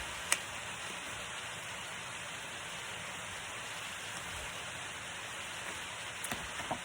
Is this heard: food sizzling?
no